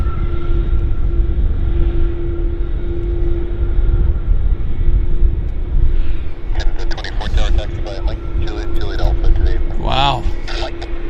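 A heavy jet lands at Vancouver airport and brakes hard, a loud steady roar with a sustained engine whine, while someone talks over it in the second half.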